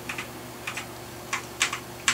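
Computer keyboard keys on a lit-up keyboard for a new PC build are pressed in a few separate clicks and short double taps, close and clear, with no talking.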